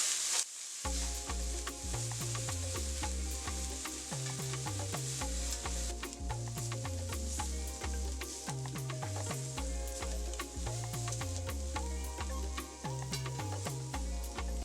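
Shrimp frying in a pan, a steady close sizzle with dense crackling pops running throughout, alone with no voices.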